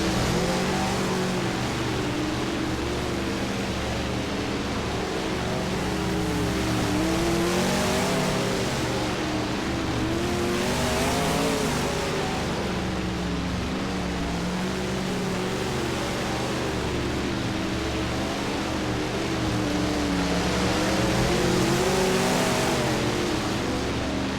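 Race cars running hot laps on the oval at Thunder Hollow Speedway: a continuous, loud roar of several engines, swelling and easing as the cars circle, with no talk over it.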